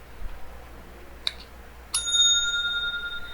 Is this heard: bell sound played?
yes